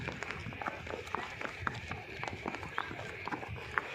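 A mare and her foal walk along a trail near Sonamarg in Kashmir, their hooves clip-clopping in a loose, uneven rhythm at moderate distance while people talk nearby.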